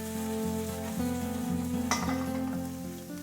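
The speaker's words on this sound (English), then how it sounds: "Saute for about a minute." Shimeji mushrooms sauté in a hot pan with long green beans, a steady sizzle and fry running throughout with a low constant hum beneath, plus one brief clatter of stirring partway through; nobody speaks.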